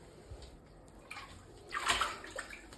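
Bathwater sloshes and splashes around a dog being washed in a tub, soft at first and then a louder burst of splashing near the end, with no voices.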